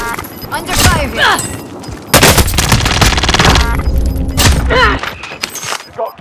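Heavy gunfire in a military shooter video game, dense loud bursts and rattling volleys with thumps and debris, layered with radio-style voices calling out.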